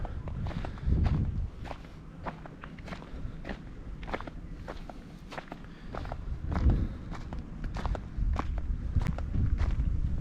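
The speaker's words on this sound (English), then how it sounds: "I'm going to walk down here so we're not looking too much at people" Footsteps crunch steadily across rough, stony ground at an outback campsite in the Flinders Ranges, a close, regular walking rhythm that runs throughout with no talk.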